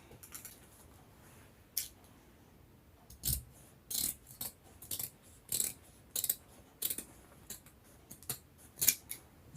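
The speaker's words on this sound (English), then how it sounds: "Before I stitch it, I will trim off the excess part here." Scissors trim excess fabric from a plus-size shoulder-cupped corset, making a run of crisp, close snips that come singly at first, then in quicker bursts, in a quiet room.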